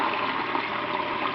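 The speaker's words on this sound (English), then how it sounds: "add some warm water since it's still relatively cold in here" Warm water runs steadily into pottery glaze, a continuous close pouring rush with no pauses.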